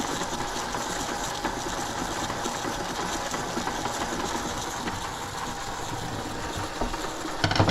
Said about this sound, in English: Eventually I'll upgrade the motor and make it a little faster, but it's as fast as it goes at this point